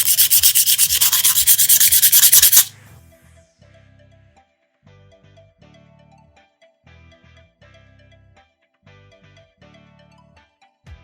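Low grit sandpaper rubbing over a taped intaglio printing plate, loud rapid scratchy strokes for a couple of seconds, then stopping abruptly into quiet faint clicks and handling noise.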